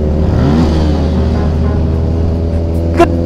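A Jet 800 motorcycle engine revs hard and close, a steady loud rumbling drone with a few pitch swells and a brief sharper burst near the end.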